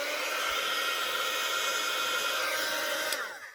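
A white heat gun for embossing runs loudly and steadily, a broad close whooshing roar with a whining fan tone that holds constant before winding down at the end.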